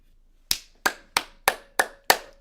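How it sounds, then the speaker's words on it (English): An applause sound effect plays as six crisp, evenly spaced single claps, each sharp and ringing briefly, loud and isolated with no voices. "Let's have some claps for Rhino Coin."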